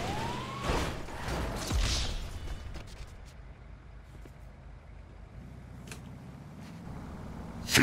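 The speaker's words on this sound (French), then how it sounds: "C'est quand même trop cool l'ambulance" Ambulance siren in a video game, a rising wail sweeping early in the clip amid cluttered game sounds, then fading under a steady low rumble toward the end.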